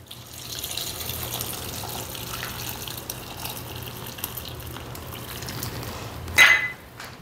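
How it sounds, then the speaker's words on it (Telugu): Hot water pours over cauliflower in a kitchen vessel as a steady, soft rush of liquid, ending in a brief louder splash. "ఇప్పుడు మనం వేడి నీళ్ళు పోసుకుందాం"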